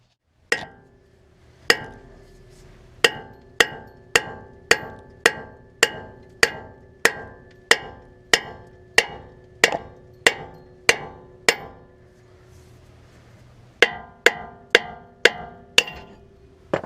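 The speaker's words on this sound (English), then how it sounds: "we're going to keep hammering until it comes off" Sharp metallic hammer strikes on a tie rod end of a 1996 Ford F250 ring out in a steady, rapid series of about twenty blows, a short pause, then another quick burst of hits.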